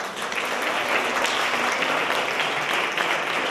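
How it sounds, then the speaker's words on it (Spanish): An audience claps steadily for trumpet, trombone and euphonium players at a music school's end-of-year concert, a dense, even wash of applause that holds for the whole stretch. "Un fuerte aplauso para ellos."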